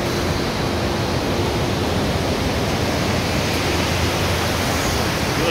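The Langtang river rushing through its mountain valley in Nepal, a constant dense, loud roar of white water with no breaks.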